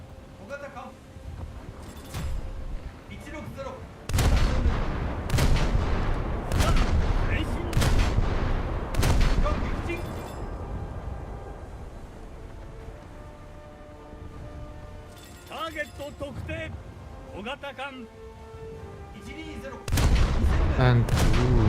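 Booming naval gunfire from a frigate battle in a warship video game, with heavy repeated blasts in clustered volleys and lighter shots between, while someone talks over it.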